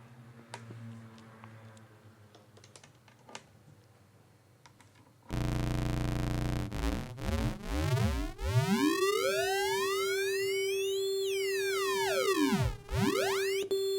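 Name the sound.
oscillator through sampling modulator with aliasing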